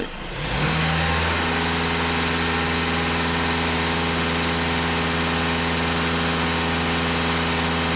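A Skoda Octavia A7 4x4 engine is held at high revs during DPF and EGR cleaning, a loud, steady sustained drone after a quick rise from idle, with no talk over it.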